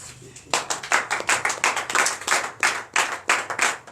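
A church congregation claps in steady, rhythmic unison at a deliverance night service, loud sharp beats close by, with a few voices and cheers mixed in.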